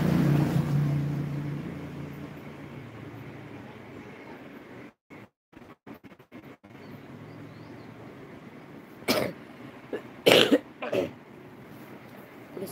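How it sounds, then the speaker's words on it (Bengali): A person indoors coughs hard in a few loud, harsh bursts near the end, after quieter stretches with brief breaks, with a windy background earlier. "প্রচণ্ড কাশি হচ্ছে,"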